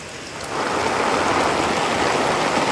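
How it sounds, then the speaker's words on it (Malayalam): Heavy rain pours down in Thiruvananthapuram, a dense, steady hiss of rainfall that swells after a brief moment and then stays loud and unbroken. "ഈ കാണുന്നത് പോലെ തന്നെ ഇടവിട്ടുള്ള വലിയ മഴയാണ് ഇവിടെ പല ഭാഗങ്ങളിൽ ലഭിക്കുന്നത്."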